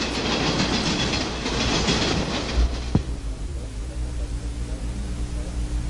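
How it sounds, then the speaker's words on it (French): A train in Tokyo rumbles along the tracks with steady clatter and hiss, then a sharp clunk, after which a lower, quieter rolling hum continues. "tournons-nous vers le transport ferroviaire qui est un des moyens de transport principaux de la ville"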